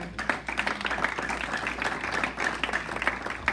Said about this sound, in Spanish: Cuando le ponen un fuerte aplauso.